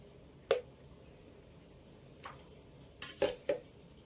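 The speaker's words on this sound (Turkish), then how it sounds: "Kekimizin hava kabarcı çıkması için bu şekilde vurduruyoruz" A cake pan of lemon cake batter rapped against a countertop to knock out air bubbles: one sharp knock, a softer one, then a quick group of three taps near the end, with nobody talking.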